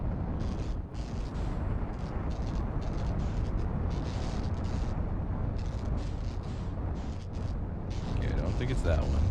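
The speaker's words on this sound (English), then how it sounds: "shooting fireballs" Volcano shooting fireballs in Outer Wilds, a continuous dense rumbling roar of eruptions and bursts filling the whole stretch, with talk over it.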